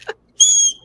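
A small whistle from a live jewelry auction gives one short, steady high-pitched blast, close and loud, after a brief unrelated sound.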